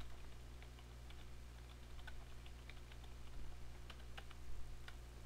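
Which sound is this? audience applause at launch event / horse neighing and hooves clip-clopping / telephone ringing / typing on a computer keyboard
typing on a computer keyboard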